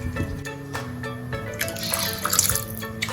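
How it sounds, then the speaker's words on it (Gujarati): Water poured from a glass into a pan of kantola (spiny gourd) curry, a close splashing pour with a few drips and clinks, no talk. "હું રસાવાળું શાક બનાવીશ એટલે થોડું વધારે પાણી એડ કરીશ"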